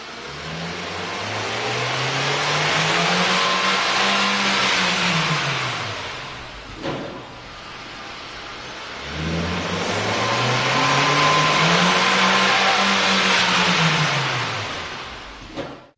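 A Nissan Juke Nismo RS fitted with an AEM cold air intake revs twice in long, smooth sweeps, each climbing and settling back, loud and close with no voices.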